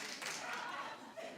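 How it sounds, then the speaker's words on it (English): A studio audience at a talk show claps steadily as a dense, soft wash of applause, fairly distant and faint, with no distinct single claps standing out. "clap if you watched the BET Awards"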